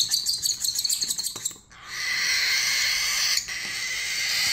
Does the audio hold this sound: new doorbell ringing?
no